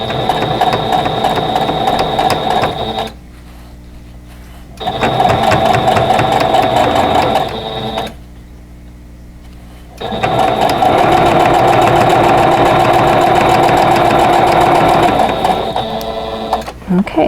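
Sewing machine stitching a quilt block seam in loud, fast, steady runs, stopping twice for short pauses before starting again.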